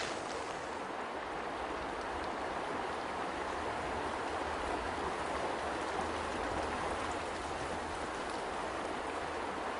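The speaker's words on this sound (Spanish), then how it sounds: "ahora que está lloviendo" Steady rain pours down outdoors in cold, wet weather, a dense even hiss of drops that holds at a constant level for the whole stretch, with no voices and no pauses.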